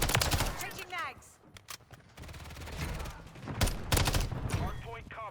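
Rapid automatic gunfire from an MTZ 556 rifle and other weapons in the video game Call of Duty Modern Warfare III, with dense overlapping shots in quick bursts and in-game voices calling out over the fighting.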